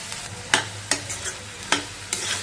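Boiled black chickpeas are stirred into a sizzling spice tempering in a pan, with a soft frying hiss under about five distinct scraping strokes of a spoon, close and with no talking.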